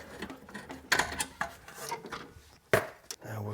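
A bolt is worked loose from the hub assembly of a Honda Odyssey during a wheel bearing job, giving close, irregular metallic ratcheting clicks and scraping rubs with a couple of sharper clanks.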